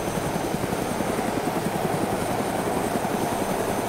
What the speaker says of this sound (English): He's saluting as the chopper takes off.